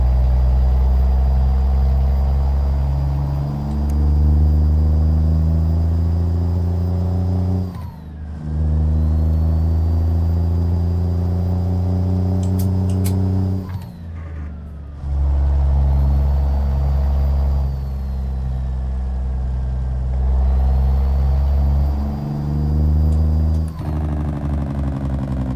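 Truck engine in a convoy driving video game, deep harmonic drone surging through three loud revving pulls with brief drops between gear changes, steady and close with no talking.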